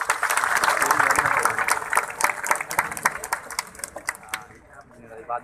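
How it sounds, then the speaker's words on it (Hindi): An audience claps at a Toyota Indus Motor Company CEO town hall, a dense burst of applause that thins into scattered claps and trails away, with a voice briefly audible. "इसी मौके पर मैं चाहूंगी कि एक बार आईएमसी फैमिली के लिए भरपूर तालियां हो जाए।"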